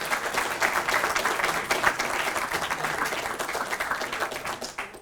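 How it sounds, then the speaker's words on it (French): Audience at a speaking competition semi-final gives a full, continuous round of clapping that stays close and steady throughout before tapering slightly at the end. "J'aimerais également qu'on applaudisse et qu'on remercie nos candidats qui sont tous présents également"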